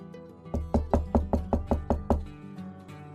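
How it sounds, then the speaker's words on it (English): Sharp knocks on an entrance door, about eight in quick even succession, loud and close, with no talking. "I heard the entrance doorbell ring and the sound of knocking."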